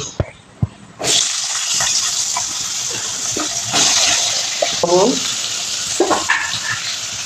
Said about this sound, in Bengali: এবার সবজিগুলো একে একে সব ভেজে নেব